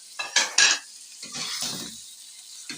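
Scraping and stirring spices with ginger and garlic in a chicken karahi pot, a few quick clanks of a utensil against metal followed by softer swishing strokes, close by with no talking.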